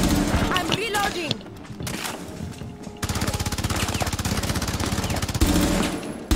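Video game gunfire, rapid automatic bursts in sustained, evenly spaced volleys, loud and close, broken by a short gap and mixed with players talking over the shooting.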